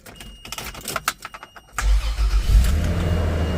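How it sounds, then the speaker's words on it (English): A 1994 Toyota Land Cruiser FZJ80 is started up, with several clicks and a short cranking sequence first, then the engine catches and settles into a loud, steady low idle. "let's turn it over so we can give that engine a listen"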